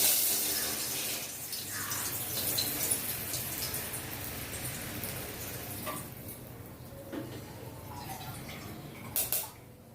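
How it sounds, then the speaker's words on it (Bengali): Water pouring into a cooking pot for chicken biryani, a soft continuous splashing stream, close and low, ending with a few brief clinks near the finish, no one talking. "এরপর এতে আমি দিয়ে দেব জল। জল দিয়ে দিয়েছি।"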